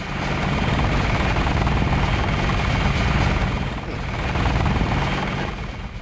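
A helicopter's steady rotor drone and engine rumble in the video game Deus Ex fill the whole stretch, loud and continuous with a slight swell midway.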